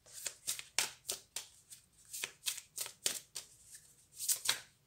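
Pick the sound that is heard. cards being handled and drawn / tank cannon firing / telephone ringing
cards being handled and drawn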